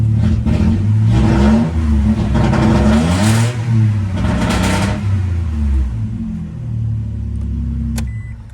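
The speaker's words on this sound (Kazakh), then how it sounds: "Енді газ басам." A Toyota Alphard engine with a partly missing muffler revs hard, throaty and loud, rising and falling in pitch several times before settling into a rough idle, close by with no talking.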